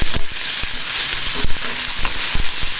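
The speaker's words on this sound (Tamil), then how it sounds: "எண்ணெய் காய்ஞ்சதுக்கப்புறம் நம்ம வெங்காயத்தை போட்டு வதக்கலாம். சின்ன வெங்காயத்தை சேர்த்துக்கலாம். கூடவே கொஞ்சமாக கருவேப்பிலை சேர்த்துட்டு" Small onions and a few curry leaves sauté in hot oil, a loud, close, continuous sizzle with spoon scrapes and taps.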